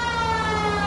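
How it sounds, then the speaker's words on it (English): A police car siren wails in the video game L.A. Noire, a steady, moderately loud tonal wail over engine and road noise, with no talk. "We might get there quicker if you use the siren."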